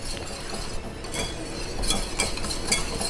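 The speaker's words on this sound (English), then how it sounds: "Give that a nice stir" A spoon stirs Parmesan shrimp alfredo sauce in a pan, making faint repeated clinks and soft scraping against the metal at close range with no talking.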